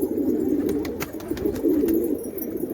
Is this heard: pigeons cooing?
yes